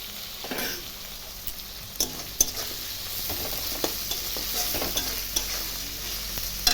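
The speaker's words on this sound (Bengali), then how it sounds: "রসুন সব আমি উপকরণগুলো ভেজে নিচ্ছি" Garlic, chilli and other ingredients fry in a pan with a steady sizzle, broken by scraping stirs and occasional utensil knocks against the pan, fairly quiet and close.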